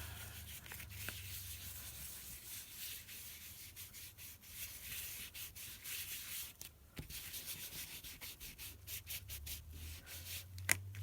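A baby wipe rubbed against a cardboard toilet paper roll gives a steady, close, soft scraping rub, continuous and even with faint crinkles and no voices.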